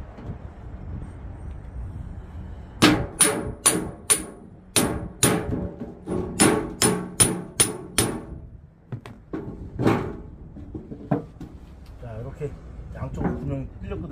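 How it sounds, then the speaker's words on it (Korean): A steel chisel is hammered into wood to bore holes for a traditional Korean water-scooping bucket, with a dozen or so sharp, close strikes in a steady rhythm. The blows grow sparser later, with a voice speaking between them. "자, 이 정으로다가 구멍을 한번 뚫어 볼게요."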